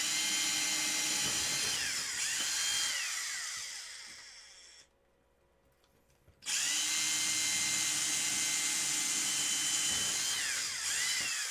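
A high-pitched power drill whines steadily, drops to near silence for about two seconds mid-clip, then starts up again at full, close volume.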